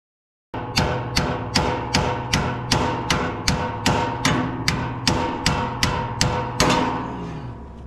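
A hammer strikes a Ford SuperDuty front end joint about thirteen times in a steady, evenly spaced rhythm, each hit a loud, close metallic bang with a short ringing tail.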